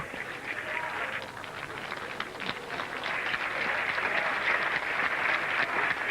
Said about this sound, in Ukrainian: оплесків вболівальників